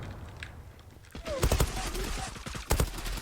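Gunfire in the video game Zula comes as sharp, loud bursts of several rapid shots, clustered midway and again near the end, with quieter game sounds in between.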